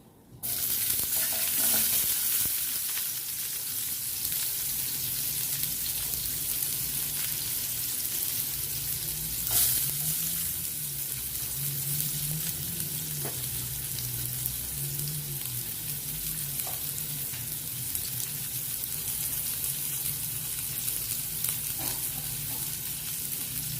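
Onion sautéing in oil for a fish and egg soup dish, a loud continuous close sizzle holding steady throughout, with a faint stir or clink now and then.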